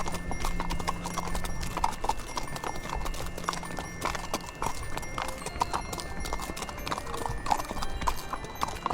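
A horse walks on a mountain trail in autumn-to-winter Kyrgyzstan, hooves clip-clopping in a steady, close rhythm through the whole stretch amid faint outdoor background.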